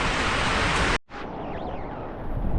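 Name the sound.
heavy monsoon rain in Konkan village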